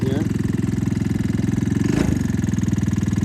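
A Talon GSX 150R engine idles with a rapid, even pulsing beat, then takes a brief blip of throttle near the middle that raises the note before it drops back to idle, close and loud.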